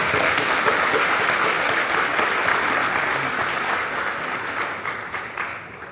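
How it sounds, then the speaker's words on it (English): An audience at an Akron school board swearing-in ceremony gives a sustained round of applause, dense and steady, tapering off toward the end. "Let's give them a round of applause."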